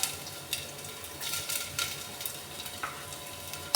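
Bay leaves, cumin seeds and ginger fry in hot oil, giving a steady soft sizzle with small crackling bursts and the occasional clink of a stirring utensil, quiet and close, with no talking.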